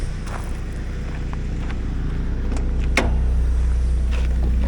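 A 1999 Mazda Miata with a five-speed manual is being driven. Its steady low engine drone holds throughout and carries faint road and cabin rattles, with a brief sharp click near the middle and no talking.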